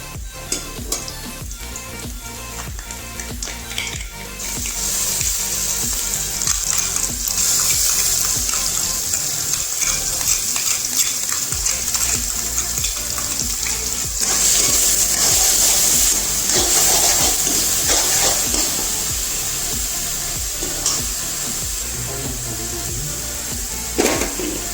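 Onions and masala for a chicken curry frying loudly in a pan, a continuous dense sizzle with bursts of hissing and occasional stirring scrapes, close and steady throughout.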